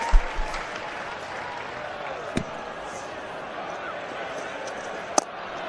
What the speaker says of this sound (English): And a good round of applause from the dugout also